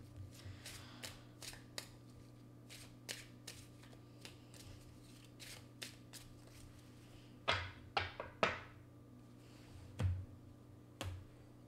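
Tarot cards drawn and slid from a deck during a French-language reading, heard as a few close, crisp papery snaps and flicks clustered together against a quiet room hum.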